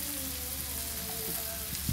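Pasta dropped into a pan of frying colored bell peppers, giving a steady close sizzle with a soft clatter near the end.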